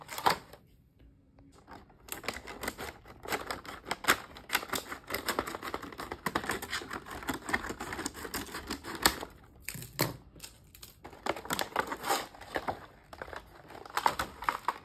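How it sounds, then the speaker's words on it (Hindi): A toy walkie-talkie set is unpacked from its packaging, with dense, continuous crinkling and crackling of plastic and paper, close and busy, with brief pauses near the start and middle. "सो लेट्स सी ओपन करते हैं इसको"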